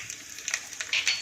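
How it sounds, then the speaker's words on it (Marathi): Mustard seeds crackle in hot ghee during tempering for a sweet and sour raw mango saar, giving a faint, close run of quick pops and a soft sizzle with no talking. "मोहरी तडतडली"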